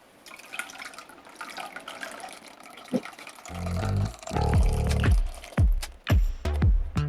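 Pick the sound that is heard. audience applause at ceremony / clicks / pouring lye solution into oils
pouring lye solution into oils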